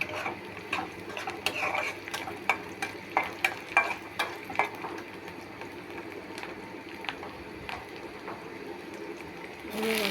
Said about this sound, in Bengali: ভাজা হয়ে আসছে।